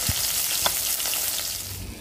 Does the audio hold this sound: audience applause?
no